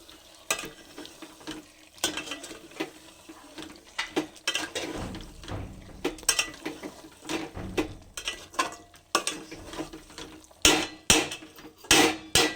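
Mutton is stirred with spices in a clay handi, with irregular scraping and knocking of the spoon against the pot over a soft, low sizzle.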